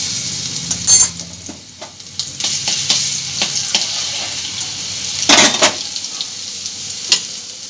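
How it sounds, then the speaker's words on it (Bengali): Garlic paste hits hot oil in a pan, hissing loudly and close with bright sizzling bursts near the start and again around the middle, plus scattered spatters and stirring scrapes between them. "দিয়ে দিচ্ছি একটু রসুন বাটা"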